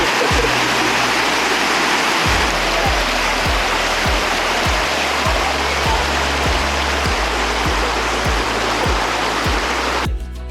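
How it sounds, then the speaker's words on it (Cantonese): A small waterfall at Big Hill Springs Provincial Park near Calgary rushes in a loud, steady broadband roar nearby, with faint low rhythmic thumps beneath and the sound cutting off at the end. "雖然其實呢個係一個小瀑布仔"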